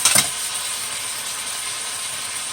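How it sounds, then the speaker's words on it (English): Chicken thighs fry in hot oil, giving a steady close hiss and sizzle that opens with a brief louder burst, then holds constant with no talking. "That chicken is frying really, really good over there"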